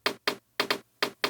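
A short dry percussion sample plays in Ableton, six crisp knock-like hits in an uneven rhythm, close and clean with silence between strikes.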